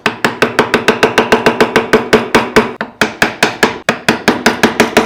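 A mallet strikes a small wood carving chisel in rapid, regular blows, about four per second, loud and close, with short pauses as the carver works around a letter; no talking.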